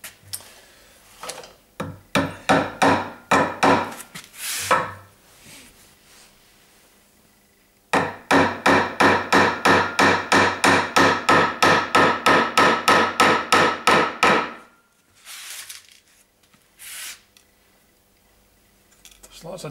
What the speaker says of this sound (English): So let's see how I get on driving in the panel pins this time